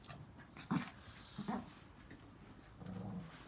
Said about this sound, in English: And there we have two noisy chihuahuas.